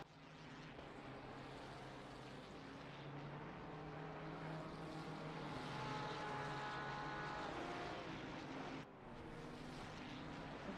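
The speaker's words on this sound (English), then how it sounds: "Of course, it does sound great when it's downshifting." Race car engine in a sim racing game at Snetterton, a faint, steady buzzing drone with shifting pitch and a brief dip near the end as it downshifts, heard at a distance without clear speech.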